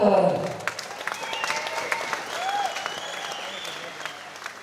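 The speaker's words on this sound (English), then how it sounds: "a round of applause for fight number 4" Spectators at an amateur fight night clap for the fourth bout, a loud opening swell of applause that settles into a steady scattered patter, with voices and a few whistles mixed in.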